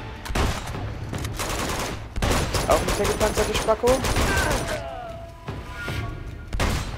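Bursts of rapid gunfire and heavy single shots ring out in the video game Uncharted 2, arriving in loud clusters separated by short gaps, while someone speaks over the shooting.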